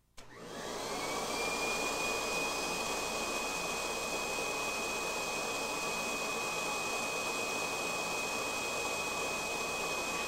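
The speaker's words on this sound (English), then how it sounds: "By attaching the inflator-deflator tool to the attachment hose, you can inflate toys, air mattresses, or other similar low-pressure inflatable items." A Kirby G4 vacuum in blower mode pushes air through an inflator-deflator tool on its attachment hose, starting up within a moment into a steady, loud, even rushing drone with a faint high whine that holds throughout.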